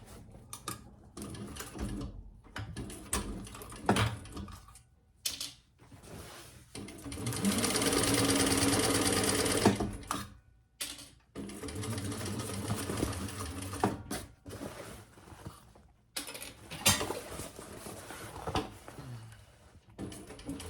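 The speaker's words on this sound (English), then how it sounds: "let's just sew this up." A sewing machine stitches a messenger bag in bursts of steady whirring, with a long continuous run in the middle and shorter starts and stops around it, close by with no talking.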